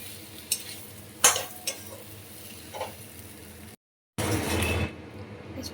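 Taro, potato and dried fish are stirred through hot spiced oil in a pan, a steady close sizzle broken by a few sharp scrapes and clinks of the spoon, a brief cut to silence, then louder frying.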